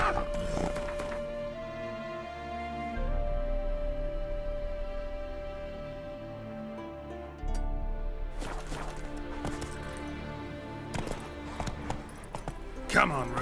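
Hooves of Roach, the horse in The Witcher 3, clip-clop steadily over ambient game music, with louder bursts of movement near the end and a voice talking at points.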